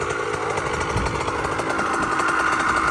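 A dirt bike fitted with a tubeless tire runs on a test of the carburetor, its engine giving a steady, loud, buzzing two-wheel drone throughout with no talk over it.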